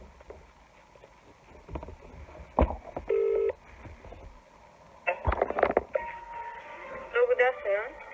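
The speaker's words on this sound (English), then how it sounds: "I'm going to give them a call and I'll put on loudspeaker for you to hear." A phone call on loudspeaker: a short dial tone and tones as the number is dialed, then the call connects and a faint voice comes through, with room noise and quiet talk.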